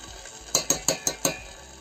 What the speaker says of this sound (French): on met le safran et on mélange